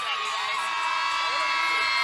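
Crowd at an NCAA women's volleyball match between Oklahoma and Cincinnati cheers and whoops steadily, a dense, sustained roar of many voices with high shouts rising above it throughout.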